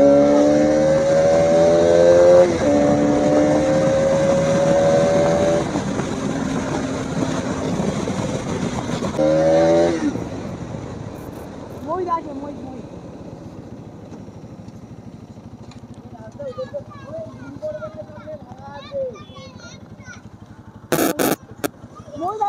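Motorcycles on a road rev hard and climb through gears as riders pull wheelies, a loud close engine whine that fades to distant buzzing passes, with people talking and shouting over it.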